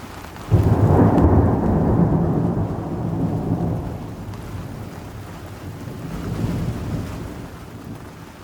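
Thunderstorm with rain in the Grand Canyon: a sudden loud thunder crack rolling into a long fading rumble over steady rain hiss, then a second swell of rumbling near the end, no voices.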